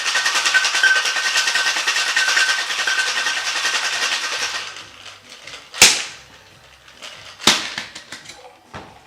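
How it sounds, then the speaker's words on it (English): A cocktail shaker holding a lavender bee's knees with ice rattles hard and continuously for several seconds, then stops. A couple of sharp clicks follow as the shaker is opened. "Add it in, shake it."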